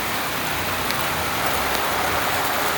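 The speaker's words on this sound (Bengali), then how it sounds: "চালে বৃষ্টির শব্দ শুনতে ভালো লাগে।" Steady rain patters on a village house roof, a dense, even hiss of drops with no break, moderately loud and alone without talk.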